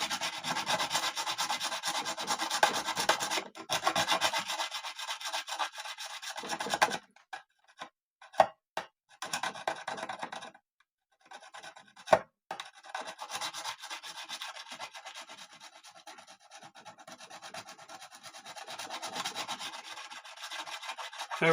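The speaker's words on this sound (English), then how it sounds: "Oh, that one's grinding more. Okay, definitely grinding on this side." StewMac Fret Kisser rubbing and grinding along guitar frets, a close, quiet scraping in steady back-and-forth strokes with a few brief pauses and taps in between.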